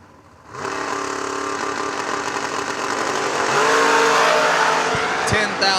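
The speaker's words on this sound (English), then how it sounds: "Cool little BMW Roadster" A BMW Roadster with a small-block engine races past, its engine roaring loud and close, rising to a stronger howl midway, with tire noise and track ambience as a race announcer's voice runs beneath.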